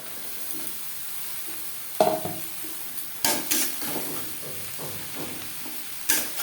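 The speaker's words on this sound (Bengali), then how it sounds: "পেঁয়াজের সাথে চিচিঙ্গা বেশ ভালো করে মিক্সড করে দেবো দু তিন মিনিট নাড়াচাড়া করে নেওয়ার পর" Chopped snake gourd (chichinga) is stir-fried with fried onions in a pan: a steady sizzle broken by several sharp scraping stirs and clatters of the spatula against the pan.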